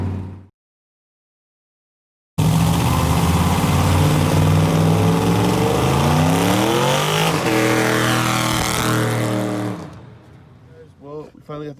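A Chevrolet C10 truck's engine drones loudly while driving down the road on a long road trip, its pitch rising and falling with throttle and gear changes; it starts abruptly after a brief silence and fades out at the end.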